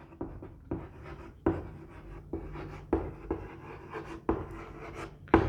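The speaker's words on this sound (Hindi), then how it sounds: "यहां लिख रहा हूं बेटा" A teacher writing on a board during a chemistry class, with steady scratchy strokes and regular sharp taps as marker or chalk meets the surface, close and clear with no talking.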